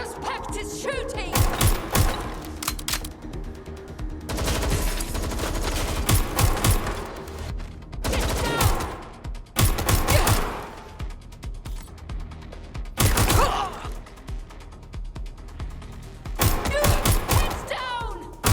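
Gunfire in a shootout from the video game Watch Dogs Legion comes in loud, dense bursts of rapid automatic shots, separated by short lulls, with a few voices shouting in between.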